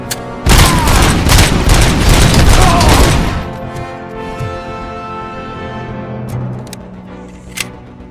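Gunfire in the RoboCop: Rogue City video game: a dense, loud burst of rapid shots and booms lasting about three seconds, then a fading ringing tail with a few faint clicks and one sharp pop near the end.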